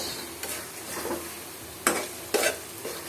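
Dal roasting in a pan is stirred with a spoon in a few scraping strokes, sharp clinks against the metal standing out over a faint, continuous sizzle; quiet and close, with no talking.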